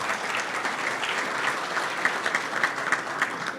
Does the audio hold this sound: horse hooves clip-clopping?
no